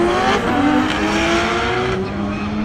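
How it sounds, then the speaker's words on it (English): Track-prepped Evo and a big-power street GTR racing, engines droning loud and steady with rising and shifting revs as the cars run close by, no talk. "Next up we got a track Evo versus a big power street GDR."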